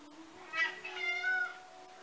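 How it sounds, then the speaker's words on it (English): A pet cat lets out a drawn-out, fairly close meow in two rising and falling phrases over a faint steady hum, with no talking. "My cat is very communicative."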